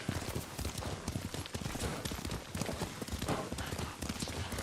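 Horse hooves clip-clop at a steady riding pace in the Ghost of Tsushima video game, a continuous rhythmic patter of hoofbeats, close and clear, with soft background ambience and faint voices.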